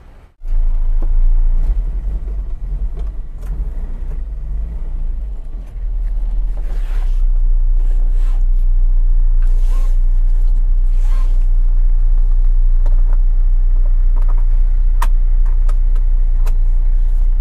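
A restored classic car drives along with a deep, steady rumbling and grumbling drone, loud and close throughout, with occasional knocks and rattles over the engine and road noise.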